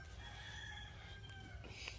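Chickens on a backyard homestead garden, with a rooster crowing faintly in the distance over a steady low rumble of outdoor background noise.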